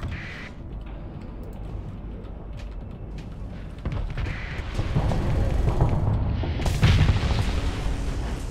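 Missile explosions slam into a ship's hull in the space combat game Starsector, a rumbling run of booms that swells louder over several seconds and peaks in a heavy burst near the end.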